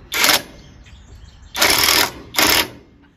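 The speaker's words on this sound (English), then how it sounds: "I'm gonna put a bolt in here." Power impact driver running a bolt into the crankshaft of a Craftsman lawn tractor, three loud buzzing bursts, the first short and the next two back to back after a pause, close up.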